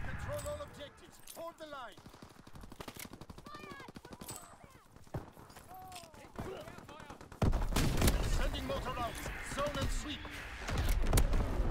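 Shotgun blasts and gunfire ring out in the video game Call of Duty: WWII, growing into loud, dense bursts in the second half while a voice talks excitedly over the action.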